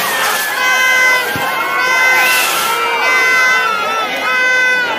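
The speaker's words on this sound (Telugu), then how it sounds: "ఆ నిప్పుల దెబ్బకి జనం మాత్రం ఏటోలాంటి పరాలవుతున్నారు, పరుగులు పెడుతున్నారు ఫ్రెండ్స్" A crowd at a village fair shouting and scattering as fireworks spray sparks, with many excited voices and children's shrill cries rising and falling close by, continuous throughout.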